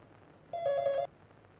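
An indoor telephone gives a single short electronic ring, a bright buzzing tone lasting about half a second, clear against a quiet room with no voices.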